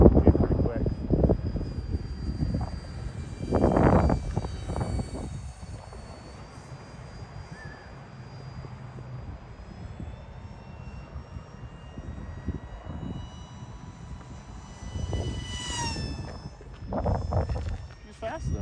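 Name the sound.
UMX F86 RC model jet flying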